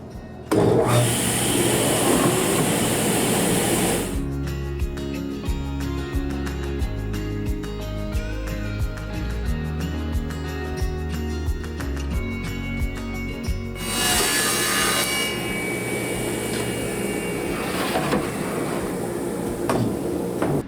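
A table saw cuts plywood boards for a drawer box. The loud blade whine and wood rasp rise as each board passes through, with a steady motor hum between cuts.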